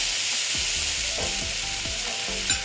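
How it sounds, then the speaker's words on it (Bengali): Tomato and ginger paste sizzling in a hot pan for a bitter gourd and potato curry, a steady frying hiss broken by several scrape-like stirring strokes, close and fairly quiet, no voices. "দিয়ে আমি এটা একটু কষিয়ে নেব"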